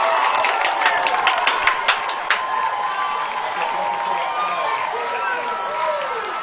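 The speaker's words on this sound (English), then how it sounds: "This crowd is going nuts." A crowd at a high school varsity football game roars and cheers after a touchdown on senior night, with scattered claps early and an announcer talking over the noise.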